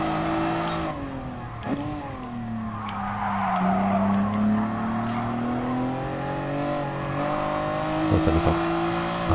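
In Gran Turismo Sport, a Honda NSX runs under a steady, loud engine drone while its tires squeal through a long understeering slide in a corner, the pitch rising and falling before the grip returns.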